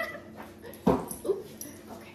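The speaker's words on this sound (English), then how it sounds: "This is a puppy." A puppy gives a short bark followed by a softer yip or whimper, close and fairly loud against a quiet indoor background.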